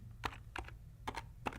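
Quick bursts of typing on a computer keyboard, a handful of close, light clicks in an irregular rhythm over a quiet background.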